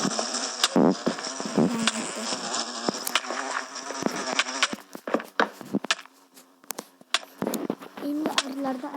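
Bees buzzing in the Minecraft Skyblock video game, a thin continuous drone mixed with quick game clicks and taps, while a voice talks in bursts over it.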